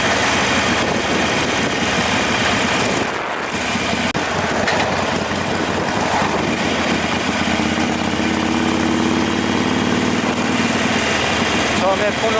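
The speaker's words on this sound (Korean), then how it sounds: "엔진 브레이크 활용해서 지금 달리는 거고요." A Harley-Davidson Iron 883 motorcycle rolls through a corner on engine braking, its low engine drone steady under loud, constant wind rush while a rider talks over it.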